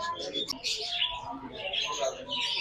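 White and grey Java sparrows chirp and twitter busily at a bird market in Burewala, with overlapping high calls close by and a voice talking over them.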